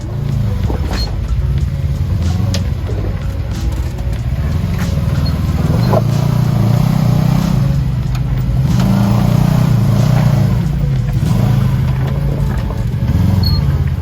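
A UTV engine labors up granite rock slabs on the Rubicon Trail near Loon Lake, a loud sustained drone with rising and falling revs and no talking.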